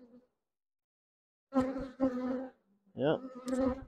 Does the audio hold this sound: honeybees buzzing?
yes